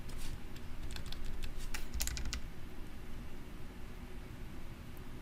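Keys clatter on a computer keyboard in a short, uneven burst of close, light clicks early on, over a steady background hiss, then the tapping fades out.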